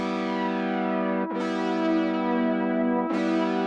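A guitar played through a Boss GM-800 guitar synth set to the FL1 effect mode, sustained chords with a sweeping, gently swirling modulation, struck again twice, each new strum bright and clear at moderate loudness.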